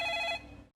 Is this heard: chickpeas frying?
no